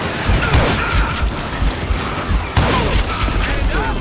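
Rapid gunfire bursts and impacts from the Western shooter game Call of Juarez Gunslinger, loud and steady across the scene, with a shouting voice partly over the shots.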